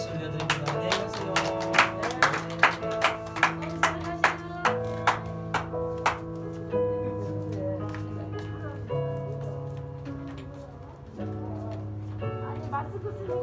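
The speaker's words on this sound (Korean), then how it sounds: "우리 교회 박수 올려드립니다" A church congregation claps in sharp, evenly spaced beats at the close of a service while music with sustained tones plays, and the claps fade into the music partway through.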